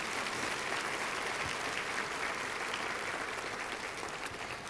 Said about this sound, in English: let's just give all of our sponsors a round of applause